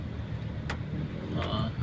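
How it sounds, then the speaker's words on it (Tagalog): Dense road traffic on a rainy morning in the Philippines, a steady low rumble of car and motor vehicle engines with a brief hiss of a passing vehicle, heard continuously from within the flow. "maulan na umaga pero grabe traffic"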